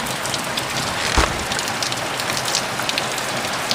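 Heavy rain pouring down in a dense, steady hiss of countless drops striking surfaces, loud and continuous throughout with no pauses and no voices.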